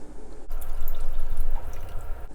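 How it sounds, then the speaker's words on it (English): Cold water pours into a pot over raw chicken in a home kitchen, a steady close splashing and trickling that runs for about two seconds before stopping abruptly. "Now we're ready to go in with enough water to cover chicken just to the top."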